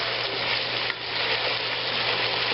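Pieces of pheasant fry in hot oil in a home kitchen pan, with bay leaf and basil, giving a loud, continuous close-up sizzle that stays steady throughout.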